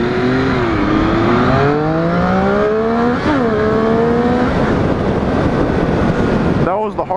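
A 2014 Triumph Street Triple motorcycle revs hard at full throttle, its engine note climbing steadily through the gears with a brief pop and dip around a shift, loud and close against steady wind rush, followed by a short burst of talk at the end.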